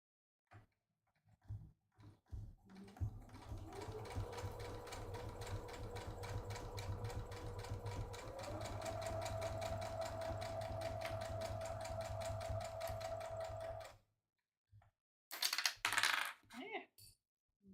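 Sewing machine backstitching a drawstring project bag, running steadily for about eleven seconds with a shift in pitch midway, preceded by a few clicks and followed by brief handling noises after it stops.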